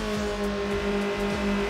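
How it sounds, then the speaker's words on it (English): Race car engine in Need For Speed Underground Rivals, a sustained steady engine drone with repeating rises in pitch, continuous and fairly loud without talk. "The engine note changed again."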